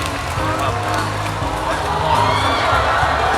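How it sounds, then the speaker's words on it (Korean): Large crowd in an arena at the Battleship Island (군함도) film showcase in Jangchung Gymnasium applauds and cheers continuously, a dense, loud roar of clapping and voices filling the hall throughout. "여섯 분께 다시 한 번 큰 박수 부탁드립니다"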